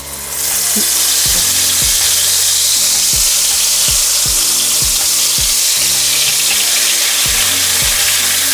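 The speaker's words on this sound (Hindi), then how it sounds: "अब हम गैस को लो करके इसमें डाल देंगे हमारा रेडी किया हुआ मसालों का पेस्ट।" Prepared spice paste hitting hot oil in a pan for Punjabi red chicken curry, a loud continuous sizzle that stays steady throughout, with occasional low knocks and scrapes from stirring.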